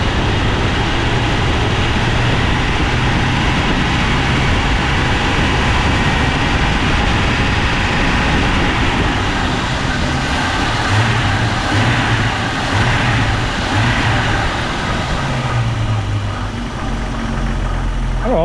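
A Jeep Wrangler 4.0 engine runs steadily with a cold fan clutch roaring, a loud continuous whooshing drone over a low idle rumble that holds for the whole stretch, close by.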